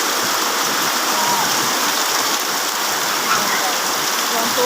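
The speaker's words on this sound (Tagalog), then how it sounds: "sobrang lakas ng ulan dito sa amin guys" Heavy rain pouring steadily in Candelaria, a dense, continuous roar of water drumming on surfaces, loud and unbroken throughout.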